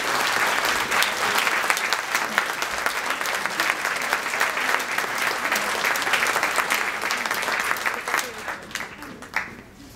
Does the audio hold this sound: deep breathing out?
no